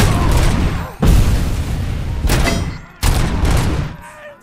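Gunfire in the Robocop Rogue City game: heavy booming shots and bursts in repeated blasts, about four strong hits each trailing into rumble, loud and close.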